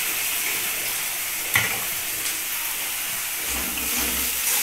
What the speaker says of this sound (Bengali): এই যে পেঁয়াজ রসুন আদার পেস্টটা আমি এখানে দিয়ে নিচ্ছি। সবকটা মশলা একসাথে দিয়ে দিলাম, এ কারণে কষাতে সুবিধা হবে।